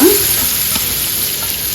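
Steady hot-oil sizzle fills the pan, a constant close hiss with faint scraping, as of tomato pickle ingredients being stirred while they fry.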